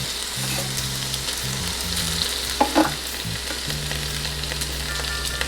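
Amberjack fillets with pineapple frying in a pan give a steady, close sizzle all the way through, with a brief clatter as the pieces are flipped and a low background hum.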